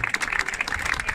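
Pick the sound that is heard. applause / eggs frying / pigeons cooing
applause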